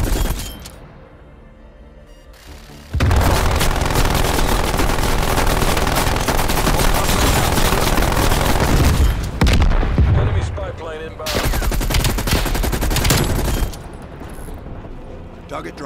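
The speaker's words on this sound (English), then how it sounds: "Multiple enemy sentry turrets active." Sustained automatic fire from enemy sentry turrets in Call of Duty: Black Ops Cold War, loud dense bursts with booms and impacts that pause briefly and resume, under in-game radio chatter.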